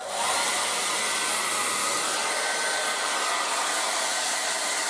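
A Revlon 097x 1800W dual-speed hairdryer runs on its cool setting at low speed, giving a steady, close, broadband whoosh of fan air that holds constant throughout with no talking.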